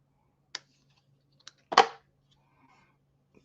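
Scissors cut scrapbook paper in a quiet room: a few sharp, close snips spaced apart, the third longer and louder, with near silence between.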